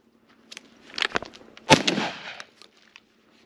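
A CZ Model 1012 All-Terrain shotgun fires at clay targets outdoors: two sharp, fairly distant reports about half a second apart, each with a short trailing echo, among faint scattered background sounds.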